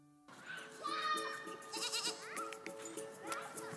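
A goat being milked bleats in loud, wavering cries close by, several calls overlapping with other livestock sounds in the background.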